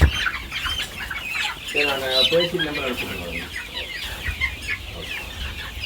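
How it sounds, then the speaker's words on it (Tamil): Sonali breed hens on an egg-laying poultry farm cluck and squawk close by in a busy, uneven chorus, while people talk over the birds. "இதுதான் அந்த வித்தியாசமான கோழியா? இது சோனாலி."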